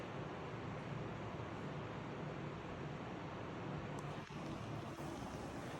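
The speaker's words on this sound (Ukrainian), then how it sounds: "і чути шум річки" A Carpathian river rushes near a waterfall, a steady broadband roar of flowing water heard from a distance, faint and even throughout with no speech.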